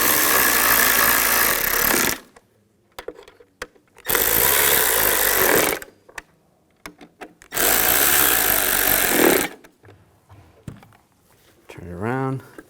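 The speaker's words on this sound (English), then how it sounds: "Tighten these down." Screws driven tight into a bracket on a replacement radio control unit for a 2015-2020 Cadillac Escalade: three loud, roughly two-second bursts of a powered driver whirring, separated by quieter handling clatter, with a brief voice near the end.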